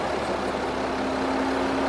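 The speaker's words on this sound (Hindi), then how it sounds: "गाड़ी स्टार्ट है, इंजन की क्वालिटी देखो यार" A Range Rover Evoque engine idling steadily, a close, continuous low hum with a constant tone and no other sounds.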